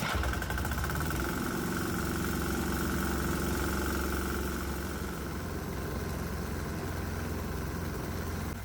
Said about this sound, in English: I'm going to start the engine and let it run for about 10 minutes